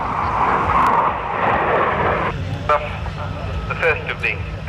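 Military aircraft flying in formation at an air show at RAF Leuchars: a steady, broad engine roar carries under a commentator's talk over the public address, with crowd noise around it.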